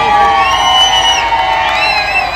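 Loud, dense crowd cheering and whooping at a rally, steady throughout with shrill whistles and shouts rising above the roar.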